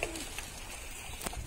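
Pigeons cooing in a loft, soft low coos against light background noise, brief and close.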